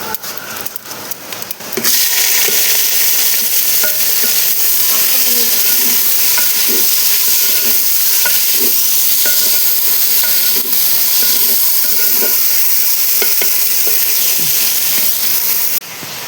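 Onions frying in a pan of hot oil after cumin seeds, while cooking a handi chicken. A steady, close sizzle with a loud hiss, and stirring scrapes break through it now and then. No one speaks.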